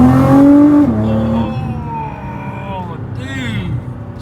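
A Nissan GTR Black Edition engine revs hard with a rising tonal howl, then drops back and climbs again as the car accelerates, with people talking over it.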